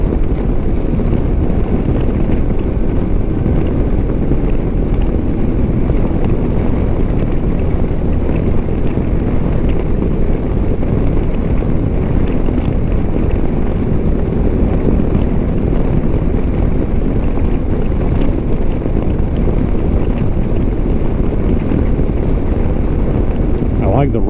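A 2025 Lifan KPT 400 motorcycle cruises at highway speed. A loud, constant rush of wind buffeting drowns out most of the engine and carries on unbroken throughout.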